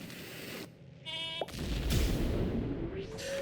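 A sheep unit in the Phobies strategy game lets out a loud synthesized bleat, followed by a booming rumble and a rising tonal sweep from its attack effect, with no voices.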